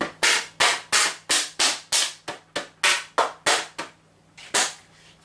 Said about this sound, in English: And then bang on the baking tray.